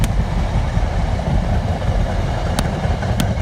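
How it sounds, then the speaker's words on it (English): A passing train gives a steady, loud broadband rumble that fills the whole stretch, with a couple of brief sharp clicks from the cars; no voices. "Here's the train."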